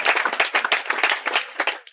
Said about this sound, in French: S'il vous plaît, des acclamations